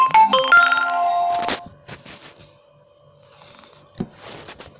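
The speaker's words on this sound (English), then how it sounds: "Phone's making a noise." A phone chimes a short melodic ringtone or notification in the opening second and a half, clear and close, followed by quieter scattered background sounds.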